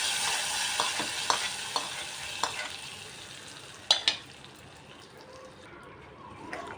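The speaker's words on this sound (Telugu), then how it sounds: "ఈ తాలింపు అనేది ఇందాక ఉడికించుకున్న పప్పులో వేసేసుకుందాము." Hot tempering of mustard seeds, curry leaves and asafoetida sizzles strongly as it is poured into cooked dal, a bright hiss that settles into softer crackling with a few sharp pops and stirring.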